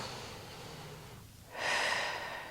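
Steady breathing in and out during a Pilates leg stretch with a loop band, soft airy breaths with one fuller, louder exhale swelling near the end, close and alone with no talk.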